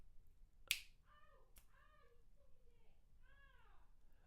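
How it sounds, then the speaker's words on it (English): A single crisp finger snap rings out near and loud, followed by another faint click, over quiet background with voices speaking softly afterward. "When you snap your fingers, it's actually your palm making the sound."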